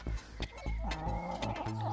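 A hen clucking close by, several short throaty clucks with soft rustling and tapping around them, no talk.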